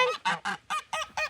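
Geese honk on a homestead yard, six quick, loud, nasal calls in a tight rhythmic series, close by and alone.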